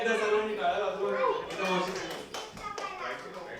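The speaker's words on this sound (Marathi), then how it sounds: "टाळ्या एकदा सर्वांनी टाळ्या वाजवा" Guests at a 60th birthday celebration clap together as talk trails off, a loose burst of close hand claps under and after a speaking voice, with a voice also heard.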